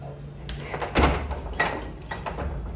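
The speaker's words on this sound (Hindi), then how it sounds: "पहले दरवाज़ा बंद कर लेती हूँ।" A door being shut at home gives one clear thud in the middle of the clip. Softer knocks and rustling follow in a quiet indoor room.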